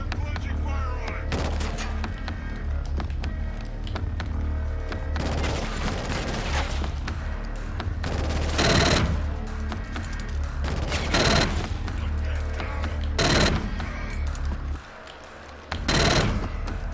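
Heavy gunfire in the PS4 shooter Killzone Shadow Fall: sustained automatic fire and fusillades with several loud booming bursts and explosions over dense battle noise, loud and near, with occasional voices mixed in.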